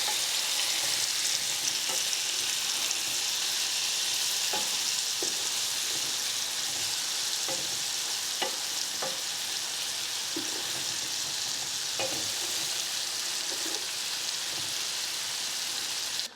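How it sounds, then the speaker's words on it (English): Meatballs browning in a pan for a hearty meatball stew, a loud, dense, constant sizzle like heavy rain, with occasional pops and faint utensil taps scattered throughout and no voices. "we were about 10 minutes, maybe 15 into the browning of these meatballs"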